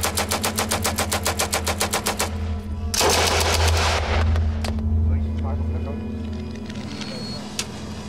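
Rapid bursts of light Bren machine gun fire crack in a fast regular rhythm, followed by a loud blast and rumbling engine noise with scattered shouting.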